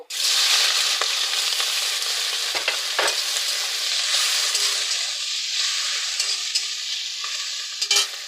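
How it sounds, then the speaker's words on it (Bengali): Onion and tomato frying in hot oil in a wok, a loud continuous sizzle with a few stirring scrapes and clatters, no voices. "তেল গরম হয়ে গেছে এবার আমি পেঁয়াজ টমেটো দিয়ে দেব"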